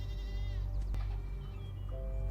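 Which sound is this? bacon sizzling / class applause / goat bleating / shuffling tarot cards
goat bleating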